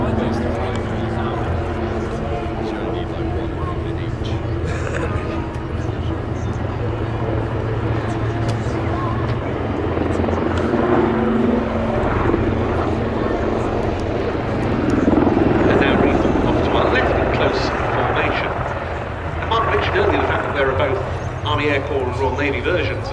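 A Wildcat helicopter flies a display at an airshow, its rotor chop and turbine whine rising and falling as it climbs and noses over in front of the crowd, with a commentator talking over it throughout.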